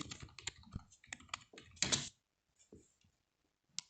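Typing on a computer keyboard with quick irregular key clicks, a louder burst of several rapid strokes, then sparse single taps after short pauses. Close and fairly quiet, with no voices.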